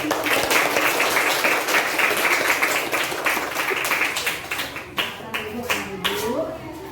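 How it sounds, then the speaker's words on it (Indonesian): Pupils in a Christian religion class clap for their classmates after a prayer, a lively burst of many hands that thins into scattered claps toward the end, with voices mixed in. "Tepuk tangan untuk teman-teman"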